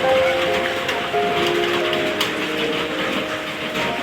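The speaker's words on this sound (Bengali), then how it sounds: "বাইরে হচ্ছে অঝরে বৃষ্টি ভালো জোর বৃষ্টি হচ্ছিল" Heavy rain falling outside, a steady broadband hiss filling the whole stretch with a faint tonal hum underneath.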